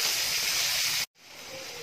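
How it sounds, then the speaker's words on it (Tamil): Two large finely chopped onions sizzle in a hot pan for soya chunk gravy, giving a steady loud hiss that cuts out briefly and then resumes. "இப்போ வெங்காயம் கொஞ்சம் வதங்கிடுச்சு."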